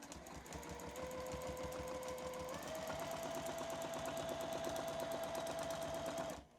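A sewing machine runs a steady rapid stitching buzz during free-motion quilting of a curvy design, close and continuous, with a slight shift in pitch partway through and no voices.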